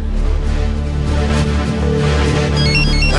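A telephone rings with a steady electronic ringtone, loud and continuous, with a repeating high tone pattern over a low background hum and no speech.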